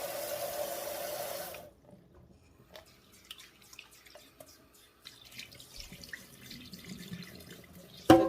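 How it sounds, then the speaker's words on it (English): Rice is rinsed under a running kitchen tap: a steady stream of water runs for a moment, then stops, leaving soft drips, grain swishing and small clinks in a quiet sink. "I'll put it under running water and mix it"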